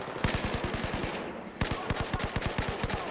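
Rapid automatic gunfire in the video game Battlefield 4, two loud bursts of evenly spaced shots separated by a short pause, close and sharp.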